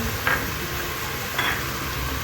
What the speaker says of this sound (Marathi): एक मोठा टोमॅटो तो आता परतून घेऊया